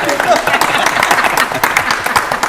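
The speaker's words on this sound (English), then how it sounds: "Give him another round of applause." Studio audience applauding on a BBC antiques game show, a steady mass of clapping over about two and a half seconds with some voices mixed in.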